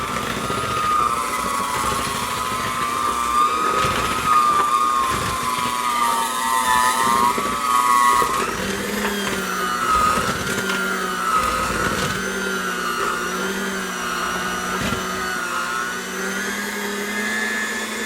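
An electric mixer whirs loudly and continuously through oatmeal cake batter, its motor pitch wavering as it works, steady throughout with no talk.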